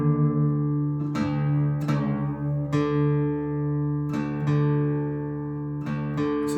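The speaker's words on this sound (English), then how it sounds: "hit your open fourth string and then hit your sixth string, and you're going to tune it down" Two open guitar strings, the fourth and sixth, ring together an octave apart while being tuned, restruck several times in an uneven rhythm, sustaining close and clear with no talking.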